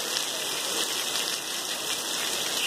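Steady morning rain falling across the metropolitan area of Pernambuco, a dense, even hiss of drops on surfaces that continues without pause, close and fairly loud.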